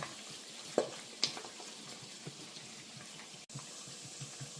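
Pork adobo sa asin fries in a pan with a steady, close hiss of sizzling oil, broken by a few sharp pops and light clinks.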